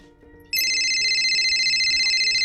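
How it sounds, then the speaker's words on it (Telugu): A phone ringtone for an incoming call starts abruptly and sounds as a loud, steady electronic ringing tone that pulses evenly, over faint background music, with no talking. "ఫోన్ వస్తుంది."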